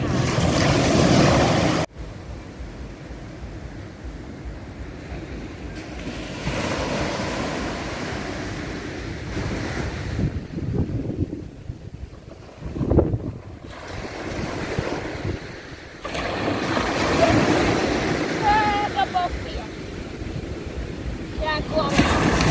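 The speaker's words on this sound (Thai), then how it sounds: "วันนี้ชาวประมงงดออกเรือนะคะเพราะว่ามีคลื่นสูงลมแรงนะคะ" Heavy surf and strong gusting wind at a bay on a Thai beach, with waves crashing and rushing ashore and wind buffeting the microphone, loud and continuous while someone talks at times.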